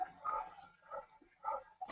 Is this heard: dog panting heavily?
yes